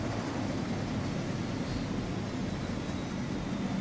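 An armed Little Bird helicopter flies overhead in the military game Takistan Life, a steady, dense engine and rotor roar that holds constant throughout without any speech.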